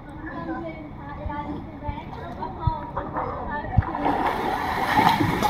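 A man jumps into a river, his splash swelling into a broad rushing wash near the end, while voices talk over the flowing water.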